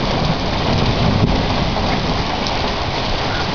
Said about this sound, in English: So it's the first thunderstorm of the year.